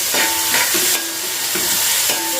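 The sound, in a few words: onions and curry leaves frying in a pan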